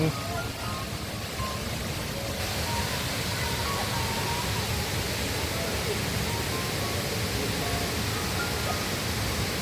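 The first tier of Erawan waterfall in Kanchanaburi, Thailand, gives a steady, dense roar of falling water that fills the whole clip at an even level.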